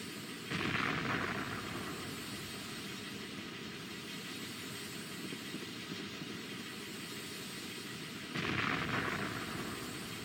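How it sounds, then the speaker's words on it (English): Rumbling explosions in Final Fantasy IX, a ship blowing up or fire raging over Alexandria, with a loud deep blast near the start and another near the end over a steady roar. "is the ship exploding, or is that the fire from Alexandria?"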